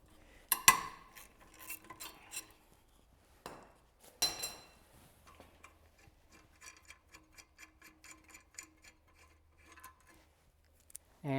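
A ratchet loosens the brake caliper bolts on a Toyota FJ Cruiser during a brake pad and rotor job, with a few metallic clanks followed by a long run of quiet, steady ticking clicks, near and without speech.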